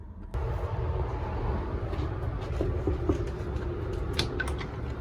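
Passenger train pulling out of the Los Angeles station, a low continuous rumble of wheels and car movement with scattered creaks, clanks and a sharp knock near the start, heard from inside the coach.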